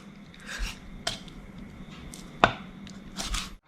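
A knife cuts a fish into small pieces on a board, making a handful of separate chopping thuds and scraping strokes, close and soft with no talking.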